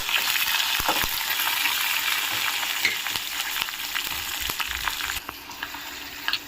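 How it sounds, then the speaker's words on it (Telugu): Green chillies frying in a pan with cumin seeds for a ginger chutney give off a steady, close hiss and crackle with scattered pops that ease off near the end. "అలాగే పచ్చిమిర్చి వేసుకుందాము. కొంచెం దూరగా వేగనిద్దాం."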